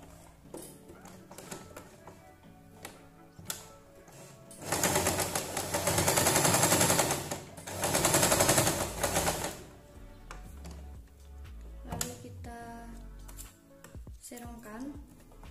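A sewing machine stitches the opening lock stitch on a patchwork-fabric shopping bag, running in a loud continuous burst for several seconds, pausing, then running again, with someone talking over the quieter moments.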